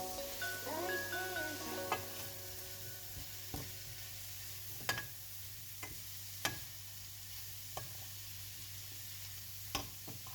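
Button mushrooms, 250 grams, stirring and sizzling in a frying pan, a steady hiss punctuated by sharp utensil clicks and scrapes every second or two, close and clear with no talking.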